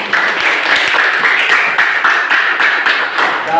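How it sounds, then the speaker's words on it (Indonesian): Clapping from a school audience at a student project showcase, a dense patter of hands sustained steadily throughout at moderate loudness, with no talk over it. "Ya, tepuk tangan."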